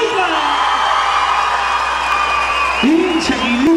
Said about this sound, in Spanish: gracias por los aplausos